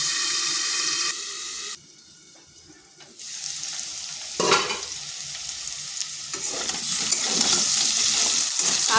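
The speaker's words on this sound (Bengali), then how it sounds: "আলুটাকে এভাবে নেড়ে চেড়ে ভেজে নিতে হবে।" Salted, turmeric-coated potatoes fry in oil while being turned and stirred, a loud close sizzle with scraping strokes that dips quieter for a few seconds, then swells back and grows stronger toward the end.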